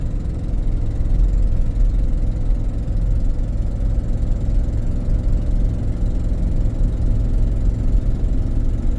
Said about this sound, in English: If that exhaust manifold noise bothered you, like, you could fix it.